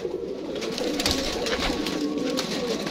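Baby pigeons in a breeding cage coo softly and repeatedly at close range, with low, murmuring bird calls running throughout.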